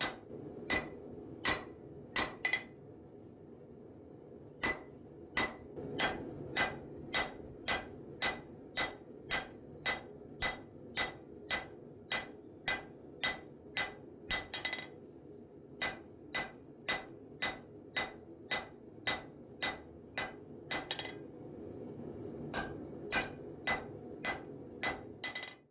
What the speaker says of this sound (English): I'm just going to start hitting that tang material, then I'll rotate it 90 degrees, hit it again